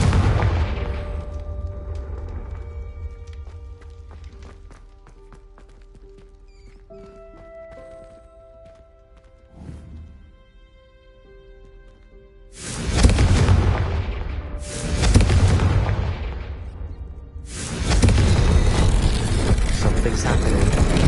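Explosive Confringo spell blasts boom in a Harry Potter video game, with quieter game sounds giving way to several loud, broad bursts, about three of them back to back near the end.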